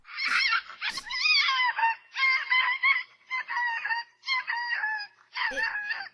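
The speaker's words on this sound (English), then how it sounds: "the chihuahua sounds like a freaking rooster" A small three-legged chihuahua lets out a string of loud, close, rooster-like yelping barks, about seven drawn-out calls in quick succession with short gaps between them.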